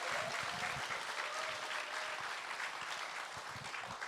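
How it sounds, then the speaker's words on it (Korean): Sustained applause from an audience at a book concert honoring a Buddhist nun's lecture on the Heart Sutra, dense steady clapping filling the whole stretch with no talk over it. "귀한 말씀해 주신 원영 스님께 다시 한번 큰 박수 부탁드립니다."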